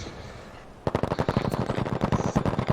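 Rapid automatic gunfire bursts out after a quiet moment, loud and close, in a first-person shooter league match, a fast stream of sharp cracks continuing to the end.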